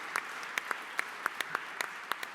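A small conference audience at a design panel claps sparsely, with a handful of distinct, fairly close claps at irregular intervals over a quiet room background.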